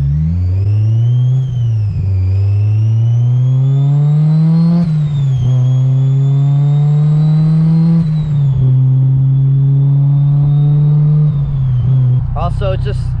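A fully built widebody Honda S2000 revs while being driven, its loud engine tone climbing and dropping through gear changes in a steady, close drone that lasts throughout.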